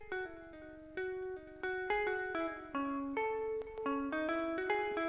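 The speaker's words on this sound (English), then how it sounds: "there's a room reverb here. Let's turn it on as we play." An electric guitar is played through a room reverb in Guitar Rig 6, a series of clean picked notes and chords with a short, roomy tail after each one. It sounds close and clear, with no talking.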